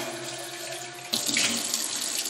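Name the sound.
tap water running through an orchid pot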